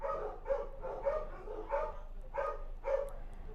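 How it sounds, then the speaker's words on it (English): Several dogs bark indoors in a steady, rhythmic series of about eight muffled barks, moderately distant and fairly faint over a low background hum. "sorry about the dogs"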